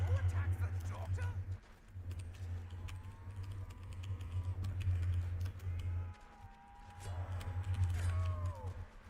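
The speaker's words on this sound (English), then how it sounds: "Is my keyboard pretty loud, guys?" Rapid clacking keystrokes on a computer keyboard continue throughout, heard over a loud low hum that drops out twice, with faint game sounds alongside.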